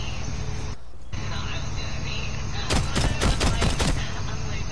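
Shotgun blasts from Rainbow Six Siege gameplay, a rapid burst of several loud, close booming shots fired in quick succession over steady game background noise, with a player talking excitedly.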